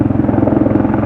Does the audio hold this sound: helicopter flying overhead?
yes